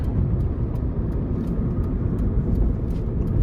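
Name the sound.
2006 Nissan Sentra 1.8S accelerating onto interstate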